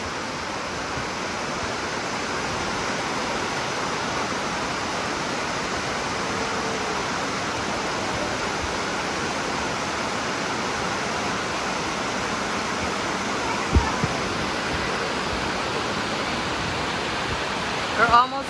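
Dunns River Falls, a waterfall in Jamaica, roars as a steady, dense broadband rush of falling water for the whole stretch, close and loud, with a couple of brief knocks near the end.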